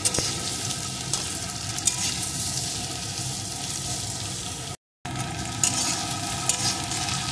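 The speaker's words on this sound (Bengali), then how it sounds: "পেঁয়াজ কুচিটাও পেঁপের সাথে একটু ভেজে নেব।" Papaya pieces and chopped onion fry in a pan for an egg papaya curry, a loud continuous sizzle with stirring scrapes throughout, broken by one brief gap of silence before the frying sound resumes.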